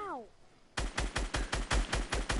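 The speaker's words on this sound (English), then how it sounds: "I hear people shooting" Rapid, evenly spaced bursts of automatic gunfire from a PS4 shooter, about nine loud shots over two seconds after a brief voice at the start.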